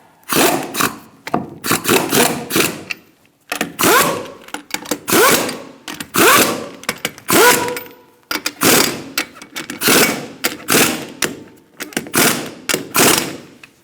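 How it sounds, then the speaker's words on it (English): A rattling power tool snugs the wheel lug nuts on a 2002-2006 Honda CR-V in repeated loud, close bursts a second or two long, separated by brief pauses. "now we're going to snug them up in a star-like pattern"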